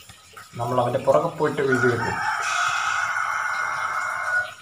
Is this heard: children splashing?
no